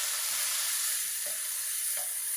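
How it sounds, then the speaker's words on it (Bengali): Chicken pieces frying in a pan, a steady close hiss of hot oil with a few soft clinks and stirs, alone without voices. "ফ্রাই করে নিলাম"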